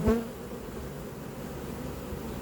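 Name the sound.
honeybees buzzing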